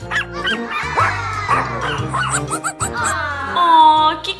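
A young female puppy yaps repeatedly, close and loud, with high-pitched yips and a whimpering whine that rises at the end.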